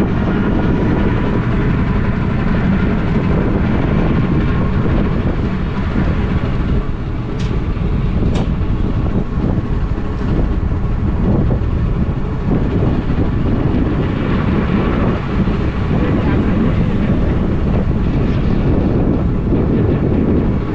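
A local train on the Lataguri line rolls past at close range, a loud continuous rumble of wheels on rail with brief higher squeals around the middle, steady throughout with no talk.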